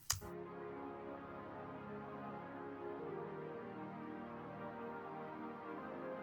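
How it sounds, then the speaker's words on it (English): A watery synth pad for a bridge in a modern metalcore synthwave song holds one sustained, shimmering chord, steady and moderately loud after a brief opening click, with nothing else playing. "We have this pad bridge that sounds like this."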